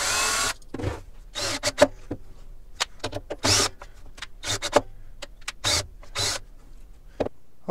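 Power drill driving screws and drilling pilot holes into wood while a shop cart is assembled, in short whirring bursts separated by pauses, close and fairly loud, with no speech.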